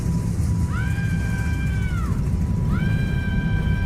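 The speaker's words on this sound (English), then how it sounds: "There was a scream." A high, drawn-out scream rises and holds for over a second, then a second shorter scream starts near the end, both heard over a constant loud rumbling background.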